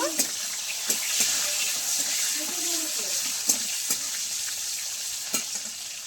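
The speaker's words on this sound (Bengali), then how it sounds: "চারটে টমেটো কুচি দিয়ে একটু নেড়ে ছেড়ে নেব" Fish curry with chopped tomatoes and slit green chillies being stirred in a hot pan, a steady sizzle and hiss with intermittent scraping clicks of the spoon, fairly close and moderate in level.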